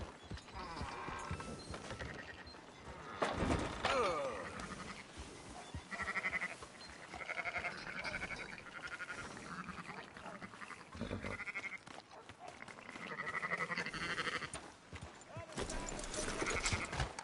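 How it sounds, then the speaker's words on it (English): Sheep bleat in Red Dead Redemption 2, with several bleats scattered over livestock shuffling and faint hoof clops, and someone speaks at times between them. "Fine sheep."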